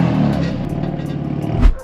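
A 2016 BMW M4 F82 with a stage 2 tune and aftermarket exhaust idles with a low, rough burble, ending in a short sharp pop near the end.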